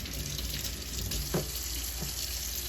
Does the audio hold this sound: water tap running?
yes